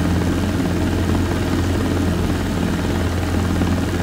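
Robinson R22 helicopter in flight, a steady, loud rotor and engine drone with a low pulsing beat filling the cabin continuously and unchanging throughout.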